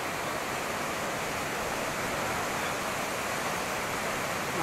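The waterfall at Majayjay, Laguna gives a constant, dense roar of falling water, steady and unbroken throughout with no voices.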